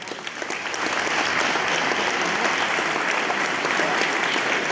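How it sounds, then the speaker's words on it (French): At a 2023 sports awards ceremony in Espace Montrichard, a large audience bursts into loud, sustained applause, a dense wall of clapping that holds steady the whole time. "Je crois que ça peut s'applaudir."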